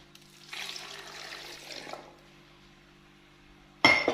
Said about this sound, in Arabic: باش نزيدوهم كاس ماء